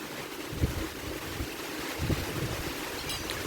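Strong wind from Typhoon Kristen rushes and buffets steadily around a house, a broad roaring noise with a few dull thumps and rattles, with no voices.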